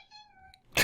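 A house cat gives one clear, close, rising-and-falling meow, followed by a short burst of noise.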